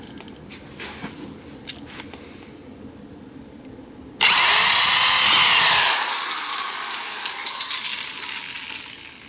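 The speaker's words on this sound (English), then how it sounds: "now we have our hole drilled" A power drill whines loudly and steadily as it bores through material, starting abruptly after some quieter rustling and handling noises, then easing slightly as it continues.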